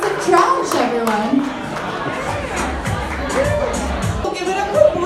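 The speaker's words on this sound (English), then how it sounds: "I have a round of applause for my dancers, Santa Black, and for Macrame Colton" Applause for dancers at a Jewish Christmas comedy-and-performance show, lively close clapping mixed with cheering and shouts from an excited crowd, with voices calling out over it.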